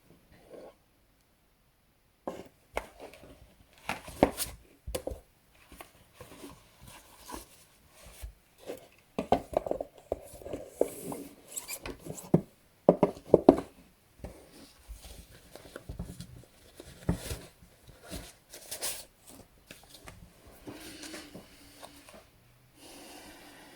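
Gaia oracle cards being shuffled by hand: soft, irregular rustling, tapping and sliding, close and fairly quiet, continuing in loose bursts after a brief silent start, with no speech.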